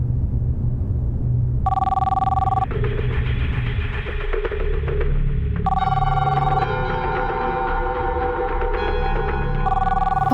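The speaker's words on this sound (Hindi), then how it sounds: "पता है किसका फोन है?" A telephone bell rings in repeated electronic trills, three bursts of ringing over a low rumbling background, fairly close and loud.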